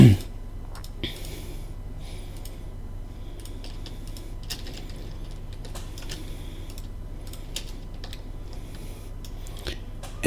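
Keyboard keys and a mouse click sharply and irregularly while someone works in the Unreal mesh editor, light close taps over a low steady computer hum.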